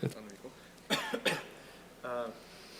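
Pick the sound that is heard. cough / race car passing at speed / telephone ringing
cough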